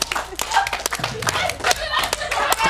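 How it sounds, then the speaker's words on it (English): A small group claps over loud chatter and cheering during a lively gathering, with scattered sharp claps and thumps mixed into overlapping voices. "Clap it up!"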